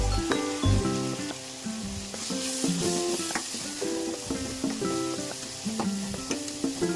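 Tomato gojju sizzles in a pan while being mixed, giving a constant crackling fry with intermittent stirring strokes, set against melodic background music.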